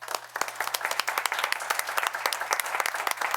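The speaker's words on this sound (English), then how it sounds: "So give them a round of applause." A modest audience at a town board meeting claps in distinct, sharp individual claps, a thin and moderately quiet round of applause over a steady low hum.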